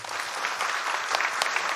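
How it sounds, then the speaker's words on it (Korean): A church congregation applauds steadily after a baptism is proclaimed during a Sunday service, with even, moderately loud clapping filling the room throughout. "박수하겠습니다"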